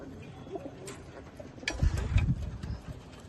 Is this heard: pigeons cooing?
yes